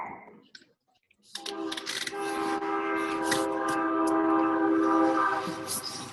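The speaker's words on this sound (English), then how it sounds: "Whoa, there's a train." A train passes on tracks near a home, a loud steady rumble with sustained horn-like tonal lines that builds in after a brief quiet start and holds for several seconds.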